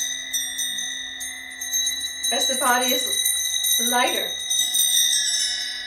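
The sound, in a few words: hydrogen chimes ringing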